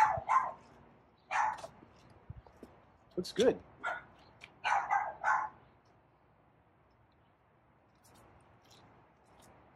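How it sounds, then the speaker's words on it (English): Dogs bark in short scattered bursts, moderately near, while people talk over them. "there's a lot of annoying dogs around that don't know how to keep their mouth shut"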